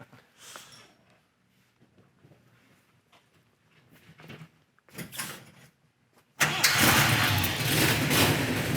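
A 1969 Dodge Daytona Mopar engine cranks and fires after some quiet shuffling, catching abruptly and settling into a loud, steady idle.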